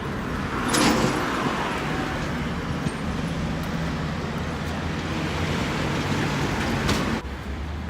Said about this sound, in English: cars come zooming around that corner